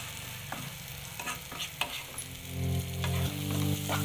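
Spices and tomato puree fry in oil with a dense sizzle and a few light spatula scrapes. A low, droning hum joins partway through and keeps going steadily under the cooking, with no voices.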